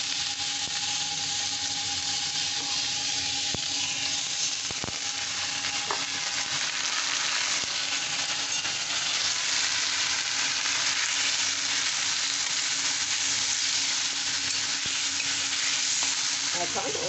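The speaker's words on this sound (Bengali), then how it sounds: "আর এইবার আমি চালটা দিয়ে দিচ্ছি, চালটা একটু ভেজে নেব।" Rice being fried and stirred in spiced oil in a pan for a ripe-mango khichuri: a loud, even sizzle that holds for the whole stretch, broken by occasional knocks of a spoon against the pan.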